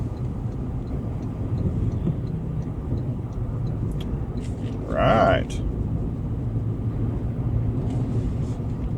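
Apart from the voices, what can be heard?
2024 Toyota Land Cruiser driving on highway into wind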